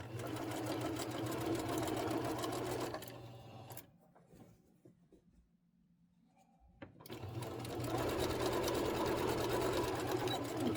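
Sewing machine stitching a quilt seam, a close, fast mechanical whirring run that stops for a few seconds of quiet handling, then starts up again and continues.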